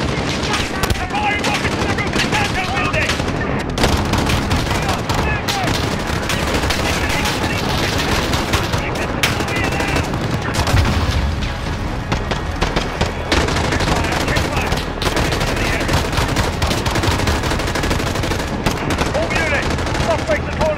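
Dense, continuous gunfire from Call of Duty: Modern Warfare fills the scene, with rapid automatic bursts and scattered shots over a loud, busy battle bed, while a voice talks over it.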